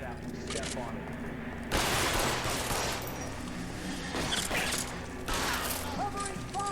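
Bursts of gunfire erupt in an L.A. Noire shootout, with loud broadband volleys coming in separate waves under character voices and game sounds.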